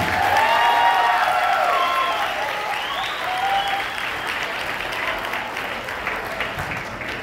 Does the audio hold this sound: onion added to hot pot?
no